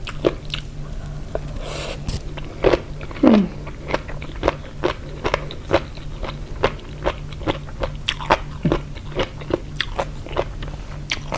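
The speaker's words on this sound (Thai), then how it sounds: "เสียงกรุบกรอบ" Close, crisp crunching bites of spicy pickled seafood salad with jellyfish, a string of sharp crackly chews repeating irregularly, with occasional wet squishes between them.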